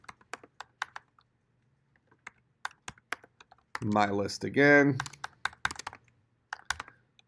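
Keyboard typing in short clattering bursts, fairly close, stopping and starting, with a person speaking briefly in the middle.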